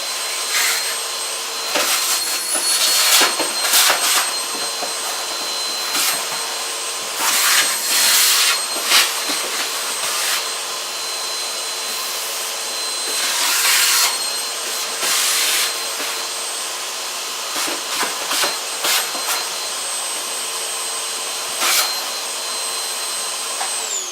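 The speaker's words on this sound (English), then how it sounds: "I'm just going to get in here and sort of vacuum out a little bit." A vacuum cleaner runs steadily, sucking a small amount of dust out of a workspace, its constant whine broken by brief surges and louder bursts as the nozzle moves around.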